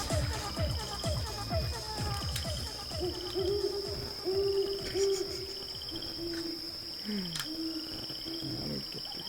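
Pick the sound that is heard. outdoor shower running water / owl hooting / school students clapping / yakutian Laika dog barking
owl hooting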